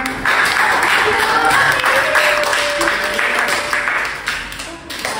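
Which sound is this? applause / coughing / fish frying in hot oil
applause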